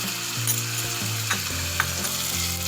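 Egg biryani masala with salt fries loudly in a pan, a dense steady sizzle with scraping stirs and a few small clicks, up close and without voices.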